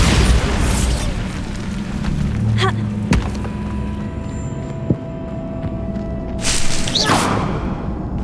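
Spell explosions from Hogwarts Legacy, a deep boom early on with sharp blasts and thuds through the middle and a brighter burst near the end, all set against a steady rumbling game ambience.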